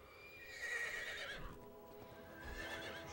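Shadowfax, the horse in the Lego Lord of the Rings video game, gives a loud, close whinny, then hooves clatter in an uneven rhythm beneath a second, fainter neigh near the end.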